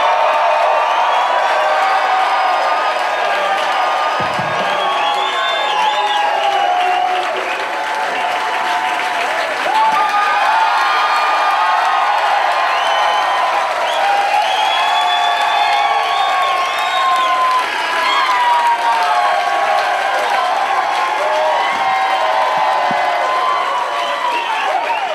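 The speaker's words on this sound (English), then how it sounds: "Please give a big Irvine round of applause" A large comedy club audience in Irvine greets comedian Bryan Callen with loud, sustained applause, cheering and whoops, a dense roar of clapping and shouting that holds steady for over twenty seconds.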